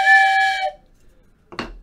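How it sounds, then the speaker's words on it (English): A short train whistle blows as a single steady tone lasting under a second, fairly loud, followed by a pause and a brief rough burst of noise. "Gets a little train whistle there."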